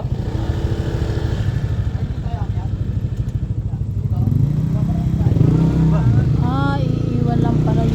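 A motorcycle engine idling close by with a steady rumbling putter that grows louder and rougher partway through, while people talk over it.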